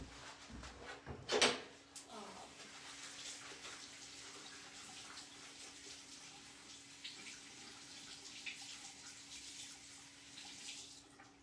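A tap runs in a low, steady wash for several seconds to wet a chamois, with a sharp knock near the start and faint scattered clatter, heard quietly and a little distant.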